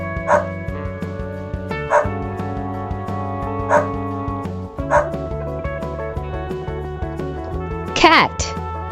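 A dog barks in several short, spaced yips over a steady musical backing, with a higher whimpering bark near the end.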